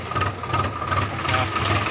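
A farm tractor engine idling steadily nearby, a loud continuous low rumble with a faint pulsing throb, no talking.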